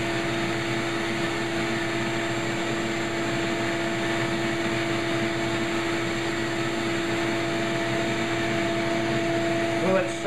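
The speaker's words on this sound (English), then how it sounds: "Seems like it's got good suction." A shop vacuum pulls air through a Rockler Dust Right cyclone separator, giving a steady, loud whooshing drone with a constant motor whine that holds unchanged for the whole stretch, with a brief bump right at the end.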